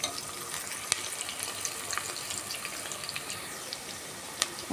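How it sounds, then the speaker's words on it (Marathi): Green chillies and spices frying in a pan give a steady, faint crackling sizzle with scattered small pops, continuous and fairly distant, with no voices. "आता चांगलं मस्त सर्व साहित्य मी हे व्यवस्थित तळून घेते"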